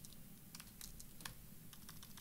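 Quiet, rapid tapping on a computer keyboard during coding, irregular clusters of light key clicks heard close but faint.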